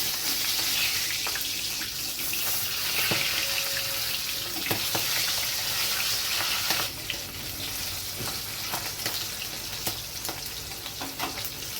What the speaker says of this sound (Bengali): যতক্ষণ মাছগুলো অন্য পিঠ ভাজা হচ্ছে